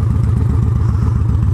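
Victory Highball motorcycle fitted with a Bassani exhaust idling close by, a loud, steady low-pitched rumble with a rapid, even lumpy pulse.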